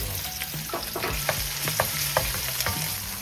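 Minced ginger and garlic stir-frying in scallion oil, a dense continuous sizzle with quick rhythmic spatula scrapes against the pan, close up and alone.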